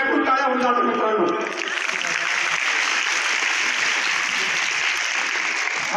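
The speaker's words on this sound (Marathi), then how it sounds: "ज्यांनी बक्षीस दिले त्यांच्यासाठी हृदयातून टाळ्या होऊन जातात मित्रांनो" After a brief voice, a crowd at a school prize-giving ceremony during the Shri Ganesh festival breaks into loud, sustained applause for the prize givers, a dense, even roar of clapping.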